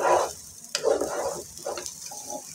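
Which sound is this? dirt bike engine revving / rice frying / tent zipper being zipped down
rice frying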